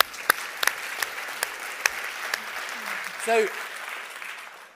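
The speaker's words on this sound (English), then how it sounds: "Yeah, let's clap the Remainers in the room." Scattered applause rises at a Brexit public meeting, sparse sharp claps from a small crowd in a room, with a speaker talking briefly over them.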